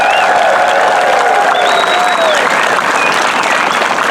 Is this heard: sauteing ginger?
no